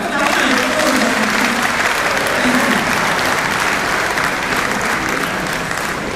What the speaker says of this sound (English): Your Excellency is here. You have to clap.